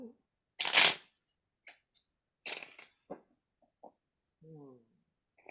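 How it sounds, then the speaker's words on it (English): A deck of oracle cards is shuffled in several quick riffles and soft slaps, close by, with brief pauses between bursts. "Let's shuffle."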